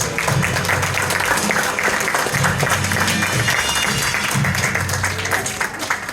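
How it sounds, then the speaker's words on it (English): An audience at a hypnosis show claps loudly and steadily throughout, with some voices and cheering mixed into the dense applause. "Give these guys a massive round of applause."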